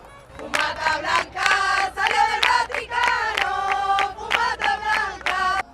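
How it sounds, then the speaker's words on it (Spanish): Crowd of pilgrims in Madrid clapping flamenco palmas and singing sevillanas while waiting for the pope, loud rhythmic handclaps in bursts under massed voices, close and lively throughout. "Palmas y sevillanas para un papa"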